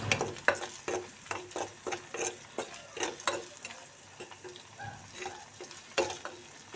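Onion, garlic and green chili frying together in a pan for a fish and winter-vegetable curry, with repeated sharp scraping stirs over a steady low sizzle, fairly near and moderately loud.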